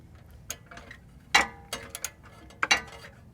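Sparse ratchet clicks and metallic ticks as a 13 mm nut is loosened from a transmission bracket on a GM OBS truck with a 4L80E automatic, a few isolated bursts close by with quiet gaps between.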